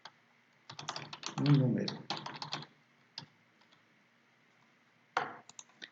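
Computer keyboard typing while writing Python code, bursts of crisp key taps in clusters separated by pauses, close, with someone speaking briefly over the clicks.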